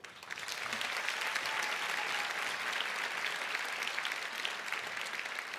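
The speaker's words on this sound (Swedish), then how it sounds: "En applåd." Applause from a gala audience swells quickly and holds as a dense, steady wash of clapping for several seconds, filling a large hall with no talk over it.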